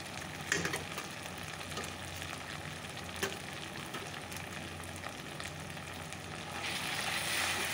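Chili paste and cumin paste frying in a pan, a faint, even sizzle running throughout with a couple of soft clicks and a slight swell near the end, no talking.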